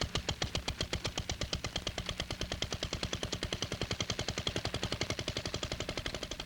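Gasoline engine driving a portable water pump, a rapid, even train of sharp firing pulses that runs continuously at moderate level with no voices.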